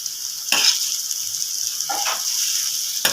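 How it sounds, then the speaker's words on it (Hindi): Chicken sizzles in hot oil on a tawa for a bhindi gosht dish, a steady bright hiss punctuated by a few louder spatters and stirring scrapes, with no talking. "अब मैं इसमें चिकन डालती हूँ"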